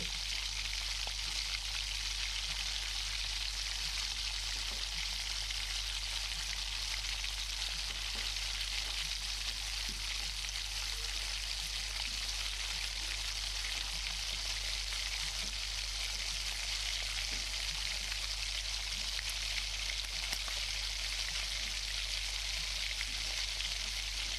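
Pav bhaji ingredients fry and get mixed in hot oil, giving an even, unbroken sizzling hiss over a low steady hum throughout, with faint scattered crackles and no speech.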